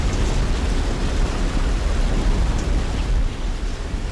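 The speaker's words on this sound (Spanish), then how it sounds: "Cuando la lluvia cae," Heavy rain falls in a steady, dense hiss that stays loud and unbroken throughout, with a deep rumbling low end and no voices.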